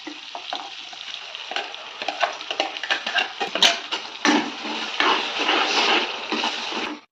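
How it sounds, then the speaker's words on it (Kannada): Ground masala fries in a pan of oil for palak matar paneer while being stirred, a steady sizzle broken by scraping and tapping strokes of the spoon, close and moderately loud. "ಈ ರುಬ್ಕೊಂಡಿರೋ ಮಸಾಲ ಹಾಕ್ತಾ ಇದ್ದಾರೆ"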